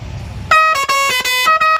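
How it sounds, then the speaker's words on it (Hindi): A loud, nearby air pressure horn on an auto rickshaw honks several times in quick succession, each blast brassy and buzzy with short gaps between. "ये वाला हॉर्न इस्तेमाल कर लेना।"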